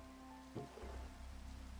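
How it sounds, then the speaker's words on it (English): Rain in a Minecraft-style block-building game, a steady soft patter across the short stretch, faint and low in level with no talk over it. "It's raining."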